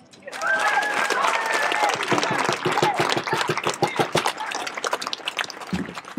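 A crowd at a speaker event applauds steadily, dense clapping that thins out toward the end, with a voice briefly audible near the start.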